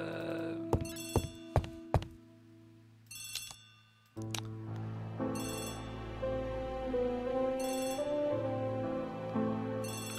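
Telephone ringing in the PC detective game Agatha Christie: The ABC Murders, sounding as several short repeated bursts of bright ringing tones, close and fairly loud, separated by thuds and over a steady background music bed.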